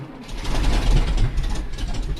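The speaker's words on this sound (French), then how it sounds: "Je fus surpris d'entendre alors le bruit d'un moteur qui démarrait." A car engine starting as a sound effect in a French audiobook: a loud, low rumble that turns over and settles into a steady idle, heard alone for about two seconds.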